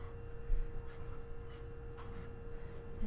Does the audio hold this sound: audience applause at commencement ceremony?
no